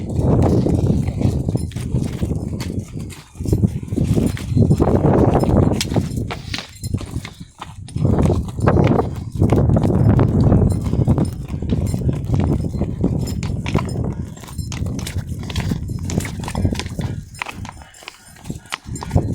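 A mare's hooves clip-clop unevenly on a hard surface as she is led, close by and fairly loud, with rustling and some low voices mixed in.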